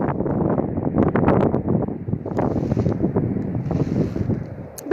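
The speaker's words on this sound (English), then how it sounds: "Pretty windy, so hopefully the next few days will be less windy." Strong, steady wind buffets the microphone while kayaking through a swamp, a loud continuous rumble with gusting surges and faint water sounds beneath, no voices.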